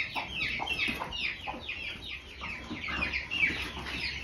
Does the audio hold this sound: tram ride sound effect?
no